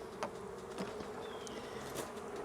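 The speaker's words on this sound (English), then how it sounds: "I think the bees started getting attracted" Honeybees buzz around a hive the colony has abandoned, a steady dense hum with individual bees droning past close by, soft and without speech.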